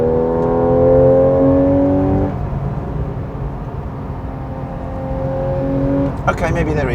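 Porsche 911 Carrera 4 GTS with 424 bhp, its engine note climbing through rising harmonics, easing off, then building again near the end, loud and close, with talk faintly present in places.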